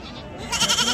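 Goats at a livestock market in Ganja bleat close by. One short, wavering bleat rises clearly out of soft background murmur near the end of the second.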